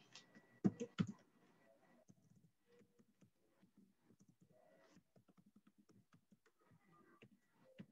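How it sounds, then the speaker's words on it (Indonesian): Someone types on a computer keyboard, a quiet, close run of light key clicks in an uneven rhythm, with a couple of sharper taps near the start. "berarti diketik manual"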